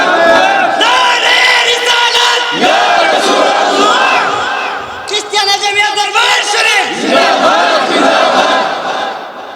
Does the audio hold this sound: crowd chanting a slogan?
yes